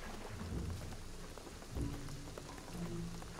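Video-game rain and thunder from Shadow of the Tomb Raider, a soft, steady hiss of falling rain with low thunder rumbles swelling and fading beneath it, heard faintly throughout.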